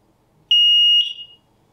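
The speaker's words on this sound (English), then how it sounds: "the alarm will sound again after 9 minutes" A SAFE-TECH interlinked smoke alarm lets out a loud, piercing high-pitched tone, a sustained beep of about half a second that fades off, heard close and alone.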